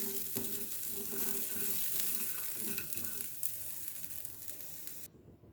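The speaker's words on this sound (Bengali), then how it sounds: "কাজু নামানোর পরে ওই ফ্রাই প্যানে কিছু নারকেলের ছোটো ছোটো টুকরো করে কেটে ওটাকেও একটু ওই ফ্রাই প্যানটায় অল্প করে ভেজে নেওয়া হবে।" Small pieces of coconut fry in ghee in a frying pan, a continuous soft crackling sizzle with occasional light stirring, fairly quiet and steady before cutting out.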